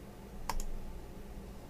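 A single pair of quick keyboard clicks from a Ctrl+S key press, faint and close, in an otherwise quiet room.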